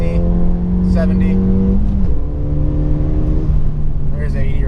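Ford Fiesta ST with a Stage 1 tune pulling hard in third gear, the engine note climbing loud and close through the revs, with someone talking over it.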